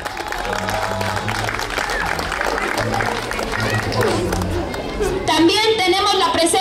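A crowd claps steadily in sustained applause at a patron saint festival in San Sebastián Zoquiapan, Oaxaca, with murmuring voices mixed in and a louder burst near the end.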